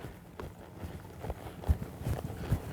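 A horse trots up to a fence during Western lead-change training, its hooves landing in a few soft, uneven thuds close by over a quiet outdoor background.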